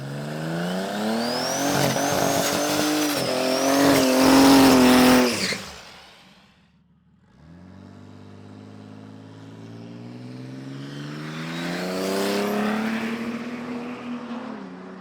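A budget street car at a drag strip roars through a full-throttle run, its engine climbing loud and high before a brief break for a gear shift, then rising again more distantly as it pulls away down the track.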